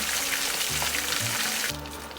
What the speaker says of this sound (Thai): โอเคค่ะเราทอดอีกด้านหนึ่งนะคะ ให้เหลือง